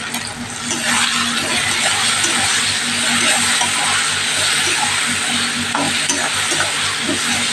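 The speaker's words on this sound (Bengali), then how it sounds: "পেঁয়াজটা একটু ভেজে নিই, একটু লাল করে ভেজে নেব" Onion with ginger garlic paste frying and being stirred in a pan, a steady close sizzle with scraping stirring running throughout, no talking.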